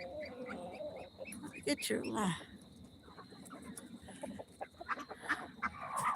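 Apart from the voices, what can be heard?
chickens and a rooster on a farm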